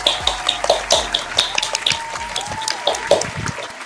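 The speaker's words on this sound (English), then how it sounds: "Let's give them a round of applause." Clapping from the audience at a public speaking summer class recital, a moderate, uneven patter of hands with scattered sharp claps and faint pings, steady for several seconds.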